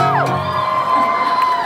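A concert crowd cheers, screams and whoops loudly and continuously, with high sustained shouts sliding in pitch, all close and filling the whole stretch.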